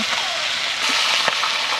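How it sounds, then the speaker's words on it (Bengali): Pangas fish heads frying in hot oil give a dense, even crackling sizzle throughout, with a single small knock of a utensil partway through. "এই মুড়ো ভাজতে অনেকক্ষণ টাইম লেগে যাচ্ছে"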